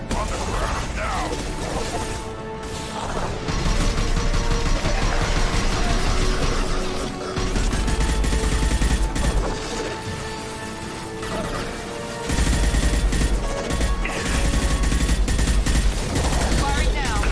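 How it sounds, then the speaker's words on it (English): Gunfire in the Mass Effect 2 video game: sustained bursts of rapid automatic fire and mechanical clatter, loud and dense throughout, with brief lulls, crashes and voices mixed in. "Firing now"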